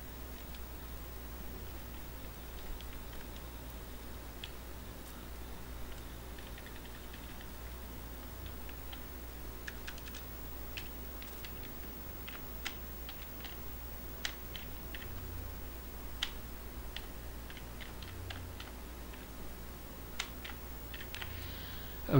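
Typing on a computer keyboard: scattered light key clicks at an uneven pace over a quiet hiss of background hum, close to the microphone, with no talking.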